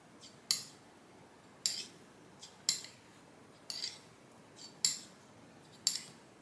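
Quiet, glassy scraping strokes of a Henckel straight razor on a Canadian novaculite natural whetstone, about seven of them, evenly spaced roughly a second apart, each with a bright, brief rasp.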